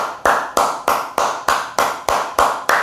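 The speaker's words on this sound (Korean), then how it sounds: "내 이 박수 소리 듣고, 파장을 듣고" Sharp hand claps ring out one after another in a steady, even rhythm, about three per second, loud and close with no talking.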